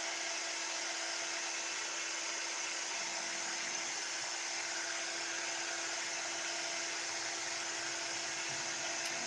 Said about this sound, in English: Let me hit them with the heat gun real fast.